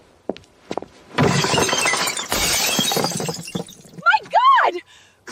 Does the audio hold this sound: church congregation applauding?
no